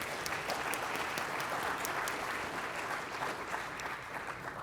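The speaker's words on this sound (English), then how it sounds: "a round of applause for them if we can" Audience at a trade show event in Nanaimo applauds the presenters, a steady wash of many hands clapping at moderate volume with a few sharper claps standing out, continuing evenly throughout.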